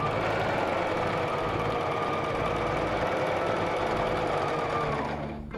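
A sewing machine runs continuously around the edge of a thick fabric handbag, a close, steady whirring hum that lasts several seconds and stops abruptly at the end, with no talking.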